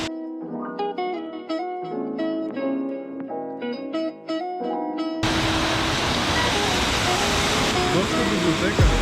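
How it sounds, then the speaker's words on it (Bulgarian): The Kasak waterfall gives a loud, steady rush of falling water. It cuts in suddenly after several seconds of music and fills the rest of the clip as a dense, even roar. "Отиваме към водопад Касак."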